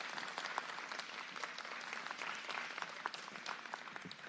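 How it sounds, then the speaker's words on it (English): An audience at a 2016 Austin district council candidate forum applauds the candidates with dense, steady clapping that carries evenly from start to end at a moderate distance. "Please, let's give them a great big district round of applause."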